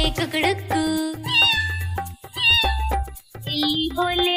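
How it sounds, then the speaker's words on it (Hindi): Cartoon cat meows set within a Hindi children's nursery rhyme, several bright meows repeating rhythmically over bouncy music, loud and close. "बिल्ली बोले म्याऊ म्याऊ"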